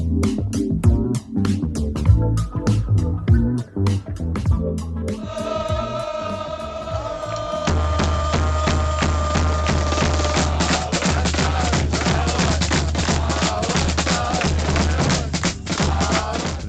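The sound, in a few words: Detroit City Football Club fans in the stands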